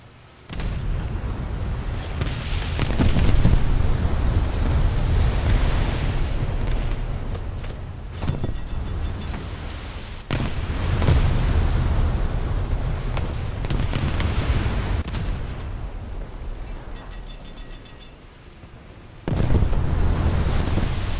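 Naval gunfire in a warship video game: repeated heavy booms and rumbling explosions, deep and loud, rolling in waves with brief lulls between salvos.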